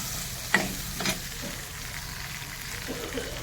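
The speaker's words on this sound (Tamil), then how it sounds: "நல்லா வதங்கட்டுப்பா." An onion mixture seasoned with chili powder and turmeric sautés in a pan, a steady close frying crackle with a couple of sharp spatula knocks early on and no speech.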